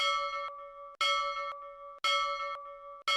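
A notification bell sound effect at the end of a subscribe outro chimes four times in a steady rhythm, about once a second, each bright ringing strike loud and close, decaying briefly before the next.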